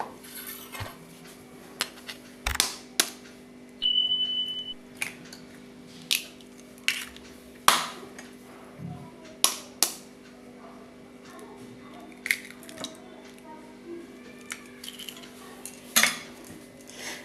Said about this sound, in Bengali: ডিম দুটোকে ফাটিয়ে নেবো